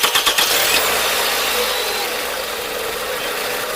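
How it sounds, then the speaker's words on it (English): A Toyota Camry fitted with a hydrogen cell cranks with a few quick pulses, then catches and settles into a loud, steady idle close by. "Now we're going to start the engine and see if everything works."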